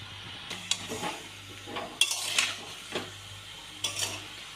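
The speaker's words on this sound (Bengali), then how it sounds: "এইভাবে নাড়াচাড়া করে টমেটোগুলো একটু সিদ্ধ হয়ে যাবে।" Tomatoes stirred in a pan while cooking down for homemade tomato sauce, with soft scraping strokes and faint sizzling and occasional utensil clinks against the pan, repeated at a steady pace.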